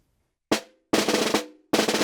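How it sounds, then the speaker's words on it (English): Snare drum buzz strokes, multiple-bounce presses on triplet notes: three dense rasping bursts, the middle one longer, crisp and close with silence between and no talking. "I put a multiple bounce on each of the triplet strokes"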